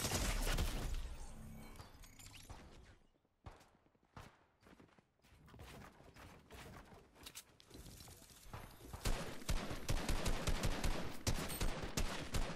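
Rapid bursts of gunfire crackle through a Fortnite match, dense volleys near the start and end with sparse sharp shots in between, loud and close with no speech.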